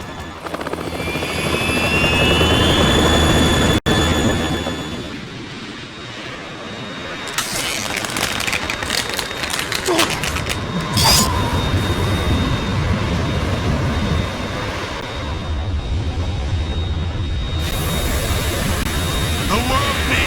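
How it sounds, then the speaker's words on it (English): A Harrier jump jet engine roars and whines in Metal Gear Solid 2, loud and steady with whooshing passes and bursts of game effects, briefly under a voice. "It's the Harrier."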